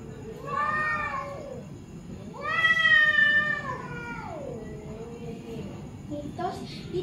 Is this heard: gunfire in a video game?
no